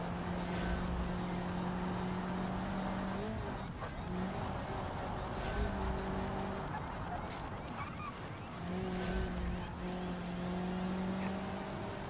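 Race cars roar through a video game race, engine tones rising and falling in sustained whines with shifting pitch, steady and fairly close throughout.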